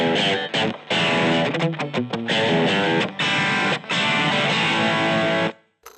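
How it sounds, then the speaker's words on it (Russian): A crunchy, overdriven electric guitar plays through a Blackstar Debut 10E or 15E combo amp set to mid gain with a British-style tone, loud chugging chords broken by short stops before the sound fades out. "на среднем гейне никакой это не такой массивный дисторшн, это скорее такой роковый перегруз, кранчевый, такой фузовый"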